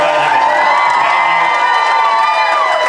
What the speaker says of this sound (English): Give yourselves a round of applause for making this all happen